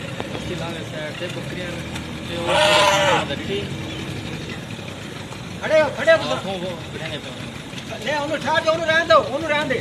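Goats bleat several times in short bursts, near and loud, while people talk over them at a flood-affected house.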